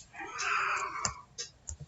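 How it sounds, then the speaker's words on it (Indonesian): A cat lets out a single drawn-out meow nearby, followed by a few soft clicks and short noises. "terdengar ada kucing bulat."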